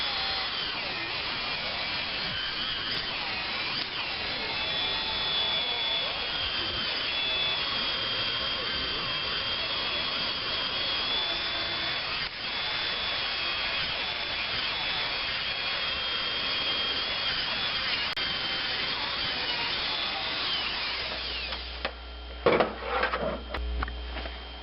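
A Dremel rotary tool fitted with a wire brush scours stubborn gasket material off a Dodge Caravan 3.0L engine, whining steadily and loudly for about twenty seconds before winding down into a few clunks.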